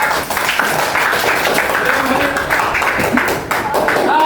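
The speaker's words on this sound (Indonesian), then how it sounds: "Terus dari tepuk tangan untuk kelompok." Classroom applause for a group of students, a burst of brisk clapping from many hands mixed with voices and chatter.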